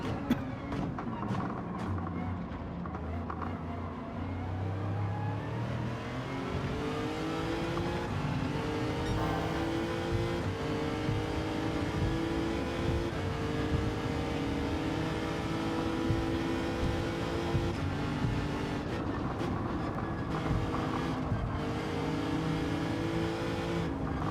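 Gran Turismo 7 racing car engines drone and rev continuously during an online lobby race, pitch sweeping up and down as the motors accelerate and shift, loud and steady throughout with no talking.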